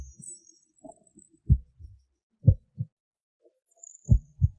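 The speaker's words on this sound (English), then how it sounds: "Big Brother's heartbeat." A heartbeat sound effect, deep low thumps arriving in paired beats with gaps between them, loud and isolated against silence.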